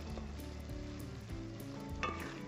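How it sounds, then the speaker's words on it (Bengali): Masala sautéing in a pan for doi chicken gives a steady sizzle under prominent background music, with a brief scrape of stirring near the end. "না, সুন্দর করে কষিয়ে নেব।"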